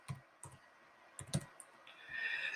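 Keys tapped on a computer keyboard, a handful of separate clicks spaced unevenly, with a quick double click near the middle, close and fairly quiet with no talk.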